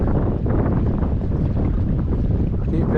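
Strong wind buffets the microphone beside Ladybower reservoir, a loud, continuous low rumble with no break.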